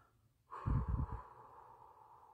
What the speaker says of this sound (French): vous soufflez profondément